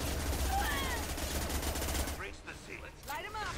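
Gunfire in the video game Mass Effect 2, a dense continuous rattle of rapid shots with game effects and a voice speaking over it, loud and close, then thinning after a couple of seconds.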